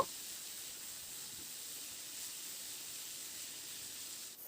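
Spiny gourd (kantola) pieces frying in a pan with salt and turmeric over medium-high flame, giving a steady, even sizzle and hiss that holds at one level throughout, close and moderately soft, with no talking.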